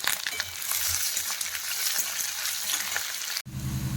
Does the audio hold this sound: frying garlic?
yes